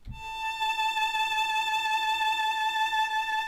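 One long bowed A on a violin's first string in first position rings out steady and close, a single sustained note with no voices over it.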